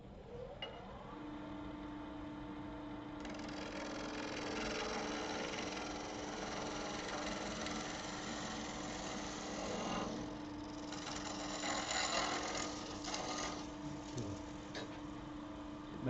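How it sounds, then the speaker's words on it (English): A 1/8 inch parting tool cutting into recycled plastic on a spinning lathe, giving a steady mechanical whir with a sustained hum and a rougher scraping texture throughout, occasional clicks near the end, no talk. "We're going to switch to the thin parting tool, but I'm going to start off with this 1/8 inch."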